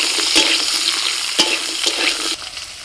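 Potatoes and radish fry in hot oil tempered with five-spice, stirred in a pan with a steady close sizzle and scraping stir strokes, no voices.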